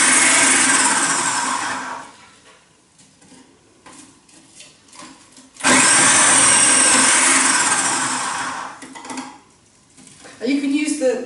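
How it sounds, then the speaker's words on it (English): A kitchen blender chops cabbage for sauerkraut, roaring loudly in two bursts separated by quieter gaps with clattering and handling sounds, the motor cutting back in strongly near the end. "So that's the kind of size of piece that I need for this blender."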